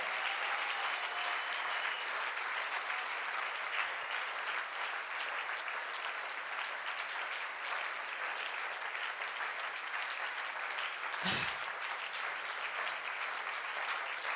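A church congregation claps to praise the Lord, loud sustained applause from many people filling the room for over ten seconds, with a brief thump near the end.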